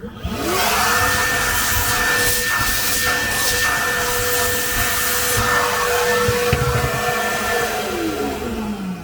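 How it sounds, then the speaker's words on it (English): A vacuum cleaner whirs steadily and loudly at close range, its motor whine rising as it spins up and holding level throughout. "I'm gonna just turn on the vacuum for a sec."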